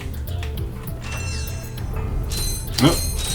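Doors open in the Ratchet & Clank video game with mechanical whirring and clanking, plus a bright metallic burst near the end, all over constant game music and effects.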